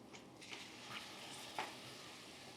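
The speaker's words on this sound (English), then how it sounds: "You can hear the immediate sizzle of that white wine" White wine poured into a very hot pan to deglaze beef Wellington stuffing, giving a faint, steady sizzle with a few light scraping and stirring clicks, no voices present.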